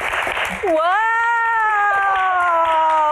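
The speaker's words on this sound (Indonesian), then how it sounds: "Tepuk tangannya mana teman-teman?" An audience at a stage Q&A applauds panelists, a brief burst of clapping followed by one person's long, drawn-out vocal whoop over softer claps.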